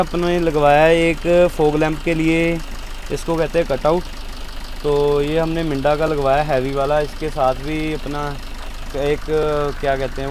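A 2018 Maruti Swift Dzire engine idles steadily and low in the background while someone talks over it nearly the whole time.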